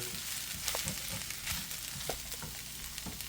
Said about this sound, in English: Fry it up a little bit.